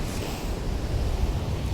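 Sea waves splashing against the shore at high tide on the North Norfolk coast at Overstrand, a close, continuous wash and rumble mixed with wind buffeting, no voices.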